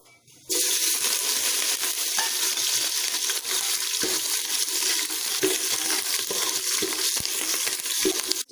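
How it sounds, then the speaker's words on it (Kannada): A loud, steady sizzle of green chillies frying in hot oil begins abruptly and continues, with faint crackles and occasional stirring scrapes. "ಹಸಿಮೆಣಸಿನಕಾಯಿ ಹಾಕಿ ಒಂದು 2ರಿಂದ 3 ನಿಮಿಷಗಳ ಕಾಲ ಚೆನ್ನಾಗಿ ಬಾಡಿಸ್ಕೋಬೇಕು."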